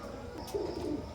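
Teddy pigeons, an imported bloodline pair, coo softly in a brief low burble that swells midway and carries on alone without talk.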